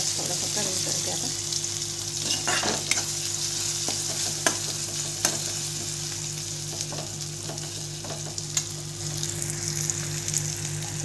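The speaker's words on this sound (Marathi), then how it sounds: "हळद टाकते. गॅस थोडासा कमी करते आता." Turmeric tipped into a sizzling frying pan over a lowered gas flame, giving a constant close frying hiss with light stirring scrapes and small clicks and a steady hum underneath.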